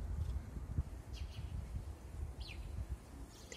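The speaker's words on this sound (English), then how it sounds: "There's so many of those little birds." Small birds chirping in a leafy city courtyard in Riga in spring, a few brief high tweets scattered over soft low background rumble, faint and moderately distant.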